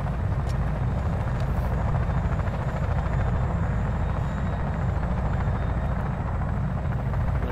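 Helicopter in the ARMA 3 military game, a steady loud rotor and turbine roar that fills the whole stretch with no letup.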